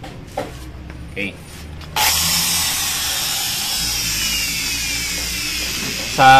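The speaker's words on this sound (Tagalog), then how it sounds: "gagamit naman tayo ng barena" An electric drill boring into a washing machine motor: a few short bursts and taps first, then a long, steady, close-up whine of drilling, with a brief sharp burst at the end.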